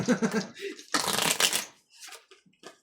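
Playing cards being shuffled for a tong-its game, a crisp riffling burst up close with a shorter riffle after, while people talk and chatter around the table.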